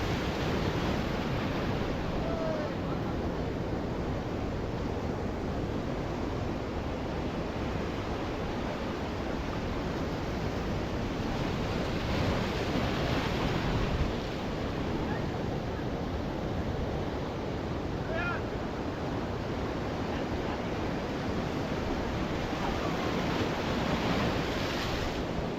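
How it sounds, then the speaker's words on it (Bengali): Big sea waves crash steadily onto the shore at the Digha estuary at high tide, a continuous loud roar of surf with gusty wind buffeting the microphone throughout. "বড় বড় ঢেউ এসে পাড়ে আছড়ে পড়ছে"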